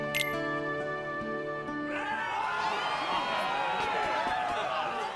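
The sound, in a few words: crowd cheering in Kingdom Hearts II video game arena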